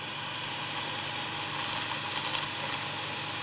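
An Incredible Edger skate sharpener's four-pole motor running with no load, giving a steady, even hum and whir with a hissy top, constant and close throughout.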